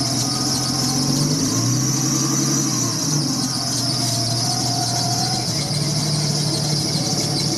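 A Jeep XJ engine is revved with the gas pedal, giving a loud continuous drone topped by a sustained high squeal whose pitch shifts slightly as the revs change.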